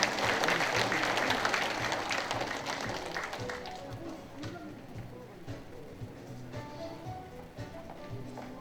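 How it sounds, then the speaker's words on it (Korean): Congratulatory applause from the audience at a district senior citizens' day award ceremony, loud at first and then slowly thinning and fading into scattered claps. "올라오시는 동안도 다시 한 번 더 축하의 박수 보내주시면 대단히 감사하겠습니다"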